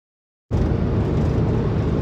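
An LS3-powered vehicle cruising down the road, a steady loud rumble of engine and road noise that cuts in abruptly after half a second of silence and holds evenly to the end.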